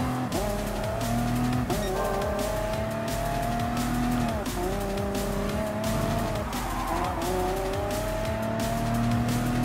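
A race car in Gran Turismo Sport sliding hard through a turn: a loud, steady engine drone under long, wavering tire squeals that rise and fall for several seconds, with no voice over it.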